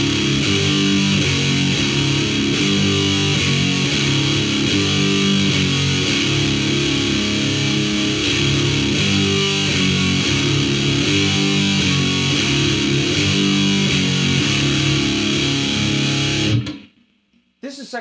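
Heavy metal electric guitar, thick and distorted, grinds through a dense riff ending on the bottom two strings played open and sustained, loud and continuous for about sixteen seconds before cutting off abruptly into near silence.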